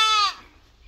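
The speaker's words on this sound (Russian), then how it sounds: "Тут козлики." A single goat bleat at a holiday camp farm enclosure, a short nasal cry lasting about a third of a second, close and clear, followed by faint ambient quiet.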